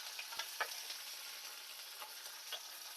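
Curry leaves and garlic sputtering in hot frying oil, a faint steady sizzle dotted with a few quick pops and crackles.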